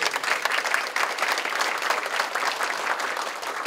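At a public school-reorganisation meeting in Japan, an audience claps for high school students. The applause is steady and fairly loud, with closely packed claps and no talking.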